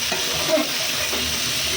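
Chicken frying in a pan produces a continuous, even sizzle heard up close, with faint crackles and soft movement underneath.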